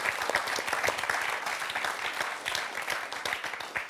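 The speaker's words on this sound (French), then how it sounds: "On les applaudit toutes les 2 pour le 4 à la suite." A quiz-show studio audience applauds two qualifying women contestants, dense sustained clapping at moderate level throughout, with no speech over it.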